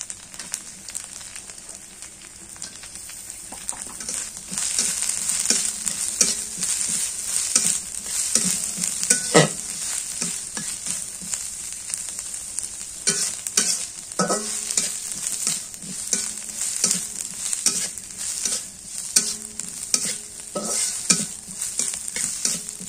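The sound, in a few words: chopped onion frying in pan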